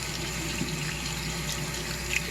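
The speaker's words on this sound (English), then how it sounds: "Give that a rinse under the tap." Water runs from a tap over a car part from a 1968 Mercury Cougar custom build while it is rinsed after cleaning, a steady, even hiss and splash close by with no pauses.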